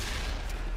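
A single loud, booming tank gun shot in World of Tanks on the Murovanka map, a broad blast filling the whole short moment with no talking.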